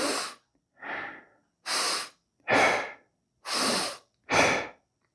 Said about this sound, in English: we're going to be breathing in through our nose into our belly